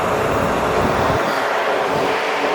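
A Metra commuter train heard from on board as it runs, a loud, steady rumbling roar with broadband rushing noise that eases slightly partway through.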